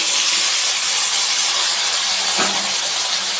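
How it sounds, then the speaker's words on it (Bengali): Four green chillies hit hot oil for tempering, producing a loud, steady broadband hiss and sizzle that fills the space close by, with a brief clink partway through. "আমি এখন 4টা কাঁচা লঙ্কা ফোড়ন দেবো"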